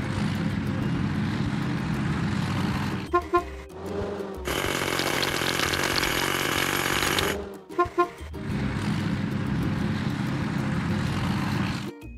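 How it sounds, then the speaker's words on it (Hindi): Hydraulic hammer breaking stones in a kids' construction game: a loud, steady mechanical clatter and drone, briefly interrupted by sharp clicks and a bright buzzing burst mid-clip before the grinding resumes. "हाइड्रोलिक हथौड़ा"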